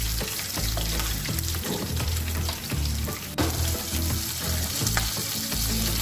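Green chillies frying in hot oil with garlic in a pan for a Muslim-style brinjal gravy, a steady loud sizzle with occasional stirring, close up and without talk.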